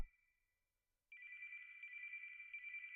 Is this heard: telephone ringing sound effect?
yes